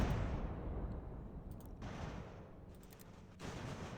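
Artillery fire in the strategy game Ultimate General: American Revolution, a loud booming blast at the start rolling off into rumble, followed by further distant thuds and a renewed boom near the end.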